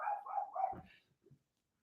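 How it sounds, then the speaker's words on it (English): A dog stands outside wanting to come in and lets out a faint, distant whine that rises into a short bark, followed by a soft whimper, with no talking. "My dog wants to come in."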